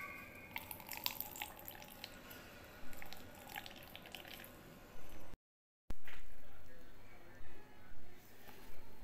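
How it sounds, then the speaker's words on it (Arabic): Water squeezed from grated potato through a strainer, dripping and trickling in small irregular bursts into a bowl, with a louder wet squeeze toward the end. "غادي نوضعوها في شي شبيكه ولا في شي صفاي ونعصروها وناخذوا"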